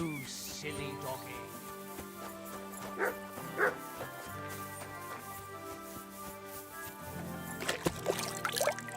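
A dog in the medieval video game Kingdom Come: Deliverance II gives a few short, moderately loud barks and yips over a steady musical game soundtrack.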